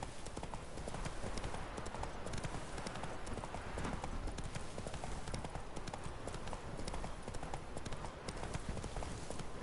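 Hooves of the horse Roach galloping in The Witcher 3, a fast continuous clip-clop rhythm that is steady and fairly close, with a faint murmur of voices underneath.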